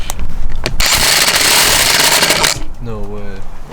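A Honda Elite S AF16 scooter fitted with a 72cc Polini Corsa kit revs loud and harsh, a buzzing two-stroke roar up close that cuts off, followed by people talking.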